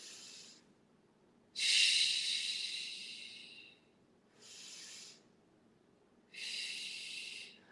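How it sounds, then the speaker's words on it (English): Slow, deliberate yoga breaths come close and clear as four separate airy exhalations and inhalations, each lasting a second or two, with quiet pauses between them. "And let us breathe 3 breaths here."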